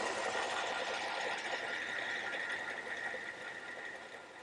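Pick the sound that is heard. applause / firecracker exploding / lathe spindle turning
lathe spindle turning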